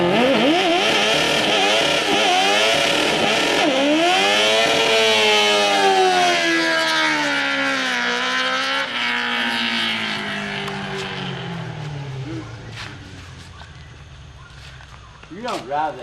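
An ATV engine revs hard and loud, its pitch sweeping up and down as gears are slammed through, then winding down toward the end with a brief burst of revving near the close.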